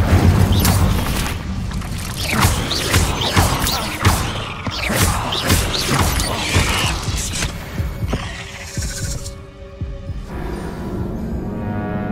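Incendio fire spell cast during combat in Hogwarts Legacy, booming fiery whooshes and crashes in quick succession, loud and close, trailing off into a quieter rumble with no talk.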